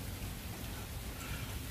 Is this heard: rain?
yes